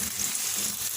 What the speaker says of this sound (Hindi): अब मैं इसमें डाल रही हूँ 1 दरमियाने साइज़ का प्याज, और प्याज को इतनी देर तक पकाएंगे कि ये हल्का गुलाबी माइल सा हो जाए।